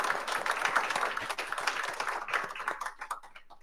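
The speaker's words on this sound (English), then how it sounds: "round of applause for all three before we start." A live audience gives a round of applause at a journalism panel event, dense overlapping clapping that fills the room and gradually thins toward the end, with no talking over it.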